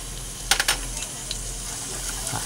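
Garlic dropped into oil in a wok sizzles softly, with a few sharp crackling bursts early on before settling into a faint, steady frying hiss.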